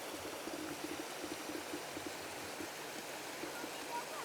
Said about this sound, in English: Look at that water flow.